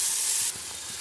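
Ivy gourd pieces hit hot oil in a pan and fry with a loud hiss, the sizzle dropping to a softer, steady crackle after half a second.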